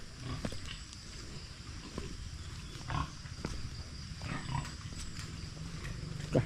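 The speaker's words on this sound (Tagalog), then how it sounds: "Dagko na kayong mga baboy." Large farm pigs that have escaped from their pen give faint, scattered grunts and snorts over a low, steady background, with no talking.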